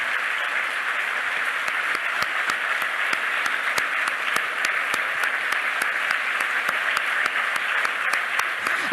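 Sustained audience applause fills the space with dense, steady clapping throughout, individual sharp claps standing out over the continuous wash; no voices heard.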